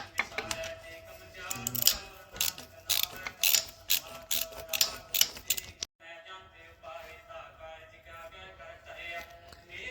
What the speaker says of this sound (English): Now we're going to open these two bolts.